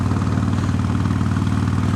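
Motorcycle engine running on the open road, a steady throbbing low rumble with a regular pulse, loud and continuous with no speech.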